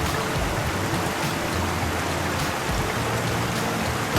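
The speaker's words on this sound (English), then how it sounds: "The creek is beautiful." A mountain creek on the trail up Mt Yale rushes steadily nearby, a dense unbroken wash of water noise at even loudness throughout, with no voices.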